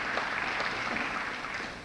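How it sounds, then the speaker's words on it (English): Dense crowd applause at a high school graduation ceremony, a continuous even patter of many hands at moderate loudness, fading slightly toward the end of the short stretch. "Give her a round of applause."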